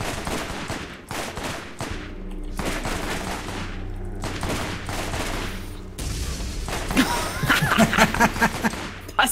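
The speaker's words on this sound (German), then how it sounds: "Ich höre hier nur wieder irgendwann rumballern." Rapid gunfire in the video game Borderlands, on Dr. Zed's zombie island, with dense bursts of automatic shots and booms throughout, loudest near the end, alongside faint background game sounds.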